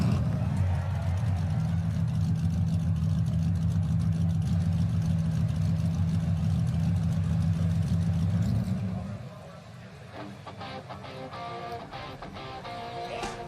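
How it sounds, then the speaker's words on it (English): Race car engines at a Denver track rumble together in a loud, steady low drone that abruptly drops away partway through, leaving fainter crowd and ambient noise. "Drivers, start your engines and get lit!"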